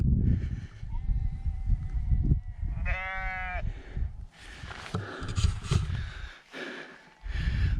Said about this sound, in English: There's some very strange sheep noises coming out of this mist.